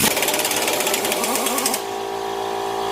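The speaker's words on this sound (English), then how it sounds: "Impact can help us out." A pneumatic impact wrench rattles in one fast, loud hammering burst of just under two seconds on the wheel hub bolts of a Ram 1500 4x4, then cuts out, leaving a quiet hum.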